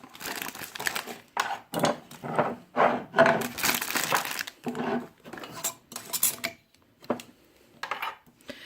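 A teaspoon scoops loose honeybush tea from a container, giving close crinkly rustles and light metallic clinks in irregular bursts with short pauses between them.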